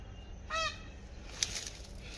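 A single brief, honking peacock call sounds from the forest at moderate distance over a quiet, hissy background, with faint bird chirps following.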